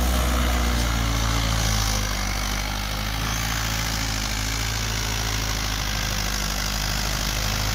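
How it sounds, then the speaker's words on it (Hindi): A Mahindra 575 DI XP Plus tractor engine labors loudly and steadily under load in second gear high range, a heavy continuous diesel rumble close by. "पूरी तकड़ी खिंचाई कर रहा है जी ट्रैक्टर दूसरे के हाई में।"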